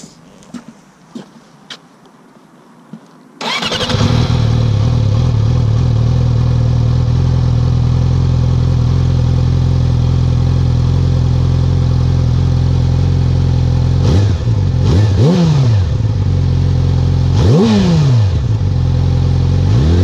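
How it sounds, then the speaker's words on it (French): A few clicks, then a 2017 Yamaha R6 sport motorcycle with an Akrapovic exhaust fires up and idles loudly and steadily, with sharp throttle revs blipping up and falling back near the end. "Voilà, c'était le son de la Krapovic de la R6 2017."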